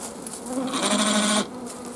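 A dense, close buzz of honeybees in an opened hive during winter brood work, rising to a loud sustained drone for about a second before easing back.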